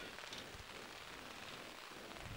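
Rain falls steadily during an outdoor high school softball game at KML, a faint, even hiss of drops spread across the whole moment with no voices heard.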